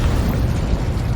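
Confringo blast spell in the Hogwarts Legacy game, heard as one loud, continuous close explosion roar with dense low rumble that fills the whole brief moment.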